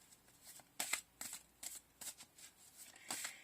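Tarot cards shuffled by hand in repeated quick riffling bursts, soft and close, about eight short papery flurries in a steady rhythm with no talking.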